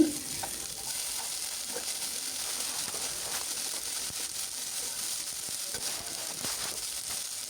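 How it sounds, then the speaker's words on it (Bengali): Onion and green chili frying in oil in a pan, a steady dense sizzle that runs throughout at an even level with small crackles, without any voices. "প্রথমে আমি পেঁয়াজ কাঁচামরিচ দিয়ে তেলের মধ্যে ভেজে নিচ্ছি"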